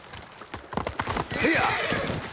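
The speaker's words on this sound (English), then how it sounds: "You're a good horse, Kage." Horse hooves clip-clop across the ground in the video game Ghost of Tsushima, a quick run of beats that blends into a whinny while someone speaks over it.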